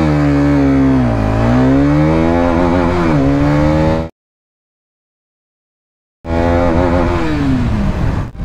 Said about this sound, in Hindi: अपनी ऑल न्यू करिश्मा XMR 210 का सबसे पहले टेस्ट करते हैं 0 to 60